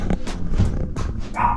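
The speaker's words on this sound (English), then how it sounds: "Doggy's barking because it's his dinner time" A pet dog barks at dinner time indoors, a few short, loud barks, with one sharper yelp near the end.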